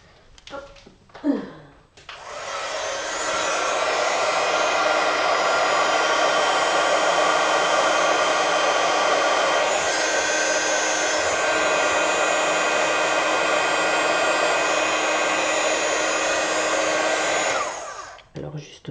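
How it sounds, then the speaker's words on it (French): A heat gun blows a steady, loud hot-air whoosh for about fifteen seconds while melting embossing powder on a craft piece, starting and stopping with brief handling clicks at either end. "on va faire cuire notre poudre à embosser, donc avec le pistolet chauffant. Attention, ça fait un petit peu de bruit."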